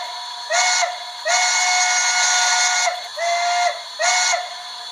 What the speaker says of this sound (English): So I set it up with the bell I wanted, and the whistle.